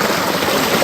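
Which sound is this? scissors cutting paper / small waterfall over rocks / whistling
small waterfall over rocks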